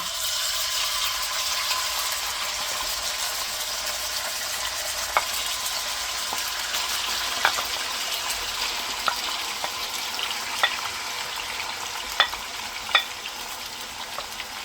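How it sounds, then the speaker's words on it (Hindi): Chicken for a chicken handi fries in hot oil with a steady hissing sizzle, broken by intermittent sharp crackles and pops, heard close up with no talking. "जैसे ही ऑयल गर्म होगा तो इसमें चिकन डाल देंगे"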